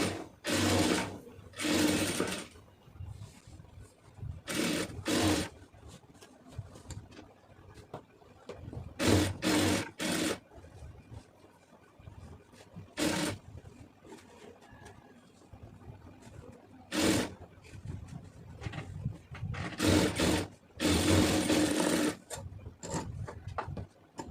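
A sewing machine stitches a round lace-trimmed neckline in short repeated bursts separated by quieter gaps of handling, close and fairly loud with no voices.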